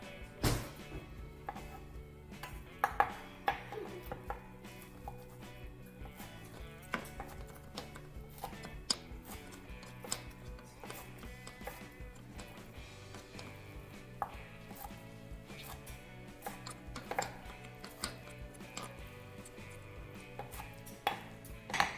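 A knife roughly chopping artichoke and roasted peppers on a cutting board, irregular sharp taps in quick uneven bursts, close and fairly quiet, with no voices.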